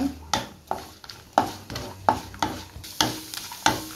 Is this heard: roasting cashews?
yes